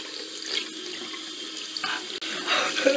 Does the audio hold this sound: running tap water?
yes